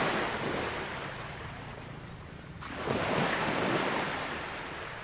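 Ocean waves roll onto a beach with gravel under a steady sea wind, a continuous loud wash of surf and wind noise that swells again midway, with no talking.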